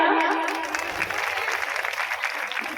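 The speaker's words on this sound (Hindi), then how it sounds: "इनके लिए तालियां।" A short burst of clapping from the crowd at an International Women's Day program in Lakhnadon, dense and fairly loud, with a voice faintly audible beneath it as it fades.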